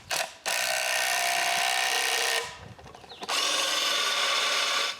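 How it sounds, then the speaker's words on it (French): A power drill bores larger bolt holes through wood in two long, loud whining runs with a brief start before them, the motor spinning down between bursts, close and without speech. "Je dois aussi percer des trous plus gros pour le logement des boulons."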